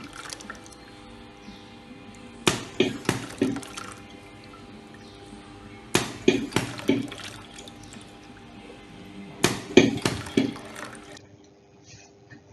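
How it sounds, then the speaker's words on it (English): ABC liquid filling machine dispensing liquid, three separate bursts of splashing and dripping spaced a few seconds apart over a faint steady mechanical hum, fairly close, no talking. "this is the video process of ABC filling machine"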